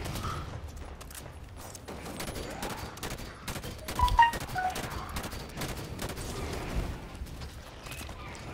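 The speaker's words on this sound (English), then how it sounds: "Those are incineration bolts." Rapid bursts of energy-bolt fire from an enemy weapon in the Halo 5 campaign on Legendary, crackling continuously with mechanical clatter and a louder cluster of shots midway through.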